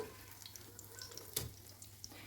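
Pirozhki frying in a pan give off a faint, steady sizzle, with one brief clatter partway through and no talking.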